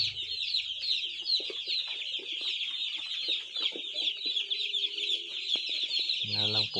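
A dense chorus of newly arrived chicks peeps continuously at close range, many high shrill calls overlapping, with a brief low voice near the start and a short burst of louder clucking at the end.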